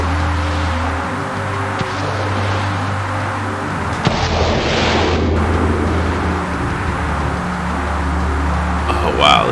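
A missile streaks off the launch rail of a Q-5 attack jet in the Fighters Anthology flight sim, a loud rushing burst lasting about two seconds over a steady engine drone.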